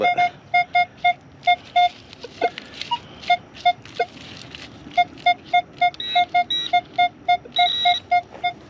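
Repeated short electronic beeps from a metal detector in quick bursts, a steady mid-pitched tone pulsing on and off, with some scratchy background noise between the beeps.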